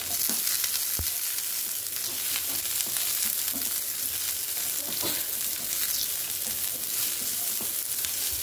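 Ingredients for karam podi fry in a pan with a constant crackling sizzle, close up, with occasional stirring clicks and no talking.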